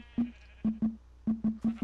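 Sheep in the Minecraft video game bleating in quick short calls, about seven bleats in under two seconds, close and clear with no talk over them.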